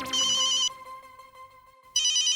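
A mobile phone ringtone sounds for an incoming call in a home setting, playing two loud bright bursts with a softer melodic tone between them and no talk.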